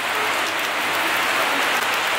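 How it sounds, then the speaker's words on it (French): Heavy autumn rain pouring down on a Paris street, a dense, steady loud hiss with no break, no voices over it. "Il pleut comme jamais, les gars."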